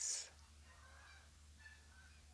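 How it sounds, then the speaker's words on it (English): Geese honk while flying overhead in the early morning, a brief, faint burst of honking at the start followed by quieter distant calls over a soft, still background. "I hear the geese flying overhead this morning."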